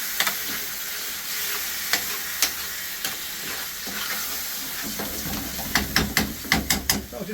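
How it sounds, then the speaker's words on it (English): Chicken jalfrezi sizzles in a pan in a British Indian restaurant-style kitchen, a steady frying hiss punctuated by sharp crackles and spits that grow busier toward the end. "That's sizzling away nicely."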